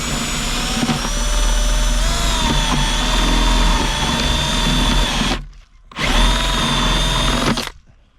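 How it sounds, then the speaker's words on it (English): A power drill fitted with a step bit grinds steadily through a thick metal roof, a loud close whine that runs for several seconds, stops briefly, then resumes before cutting off. "I'm just going to take a step bit"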